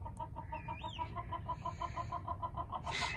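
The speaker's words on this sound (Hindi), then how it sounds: "मुर्गा निकाल लिया बाहर अपना, और अब हम इसको खिलाने लगे हैं गौरी।" A rooster clucking in a quick, steady series of short notes, close by and fairly quiet over low background noise, ending with a louder rustle.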